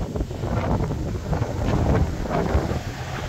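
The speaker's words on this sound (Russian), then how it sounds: "Ой, какой ветер." Wind gusting outdoors in open air, buffeting the microphone with a steady low roar that swells and eases throughout, with no voices.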